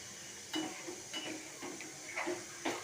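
Spice paste with chilli sautéing in a pan, a steady hiss and sizzle with several brief scraping stirs that rise and fall, heard alone at moderate loudness.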